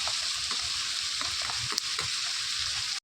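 Capsicum, onion, ginger and garlic sizzle and fry steadily in a pan for chilli chicken, a continuous close hiss with faint stirring scrapes throughout.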